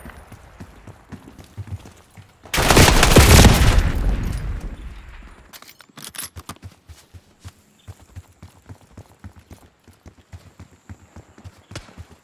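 Gunfire in a Call of Duty Black Ops 6 multiplayer match on Nuketown: a loud burst of shots and an explosion-like roar, then a string of lighter, rhythmic taps and distant pops.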